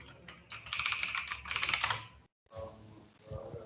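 Rapid typing on a computer keyboard, a dense run of close, crisp key clicks that breaks off briefly and then resumes in a looser, slower pattern with a few heavier keystrokes.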